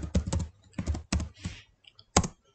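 Fast typing on a computer keyboard while entering text in Microsoft Word: close, crisp key clicks in short uneven bursts with brief pauses between them.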